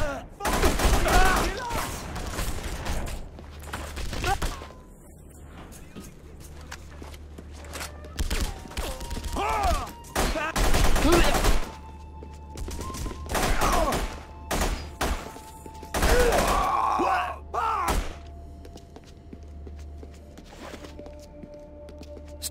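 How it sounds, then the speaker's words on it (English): Bursts of gunfire in The Punisher video game at a meat packing plant, rapid volleys and single shots in several loud clusters, with brief gaps and faint background sounds between them. "Stay here till the gunfire stops."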